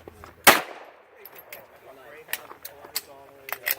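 A single sharp, loud gunshot rings out at an outdoor shooting range, followed by quieter clicks and handling noises of the gun being readied.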